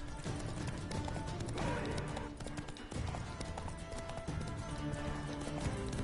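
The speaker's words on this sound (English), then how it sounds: "So I really don't like horse racing in this game." Horse hooves gallop at a steady, rapid clip-clop during a horse race in The Witcher 3, loud and continuous over a dense bed of game sound for the whole stretch.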